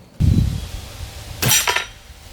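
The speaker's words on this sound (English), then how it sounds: "Wow, that was a heavy steel chicken." An air shotgun fires with a dull thump from a GAMO Viper Express .22. A moment later its pellet strikes a heavy steel chicken target, giving a bright metallic clang that rings briefly and then fades.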